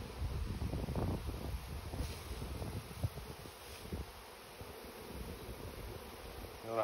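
Honey bees hum steadily around an open hive during a summer mite check, a continuous close buzz with some wind rumble against the microphone and no talking.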